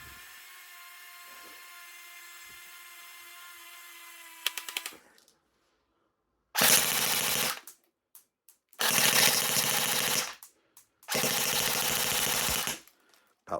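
Three loud, sustained bursts of full-auto fire from a CYMA CM.135S electric airsoft gun with a mosfet, each a rapid buzzing rattle lasting about a second or two, preceded by a steady mechanical whine.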